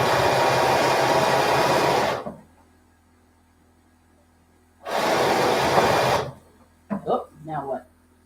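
Near a quilting machine, an air compressor runs in two loud, steady bursts of whooshing noise that stop abruptly, separated by quiet, followed by brief talking.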